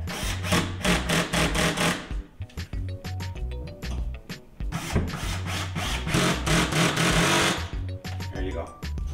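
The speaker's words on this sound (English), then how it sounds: "when you hear your drill rattling like that" A power drill rattles loudly in rapid bursts as it drives a screw tight while mounting an over-the-range microwave, a clattering rhythmic hammering that stops briefly and then resumes, close to the microphone.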